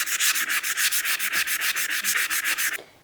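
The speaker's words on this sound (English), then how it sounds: "So I'm going to be using our sanding block" A sanding block scrubs a chalk-painted furniture surface in quick, steady back-and-forth strokes, about nineteen in a row, close up, then stops.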